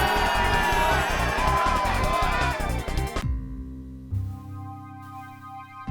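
Crowd cheering and roaring at a wrestling match in the Skullgirls fighting game, a dense loud wash of voices with music running through it, cutting off sharply partway and giving way to quieter tonal sounds.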